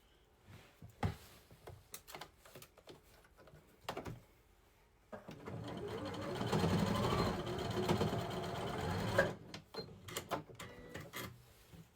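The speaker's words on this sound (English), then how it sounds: "I'm just going to sew just a little bit right here" A sewing machine stitching the seams of a dish drying mat tote: a few short clicking bursts, then a steady run of rapid stitching for several seconds, close and fairly quiet, followed by more brief clicks and handling.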